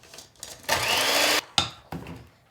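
An electric mixer whisks vanilla cupcake batter on low speed, a whirring buzz running steadily for under a second between short bumps and clatters of the bowl.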